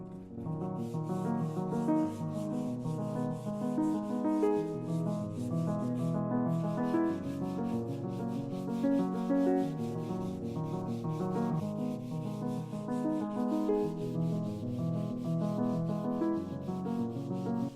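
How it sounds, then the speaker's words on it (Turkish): Sandpaper rubs over a ceramic vase to smooth out lines and pores, a continuous close scratching with rhythmic back-and-forth strokes, loud and steady throughout. "Şimdi zımpara işlemine başlıyorum."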